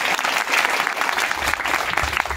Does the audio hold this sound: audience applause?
yes